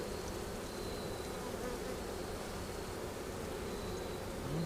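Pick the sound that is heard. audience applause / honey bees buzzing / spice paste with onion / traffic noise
honey bees buzzing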